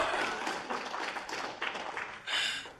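A convention crowd at a gaming event claps and cheers in a short, fairly distant burst, swelling again briefly near the end.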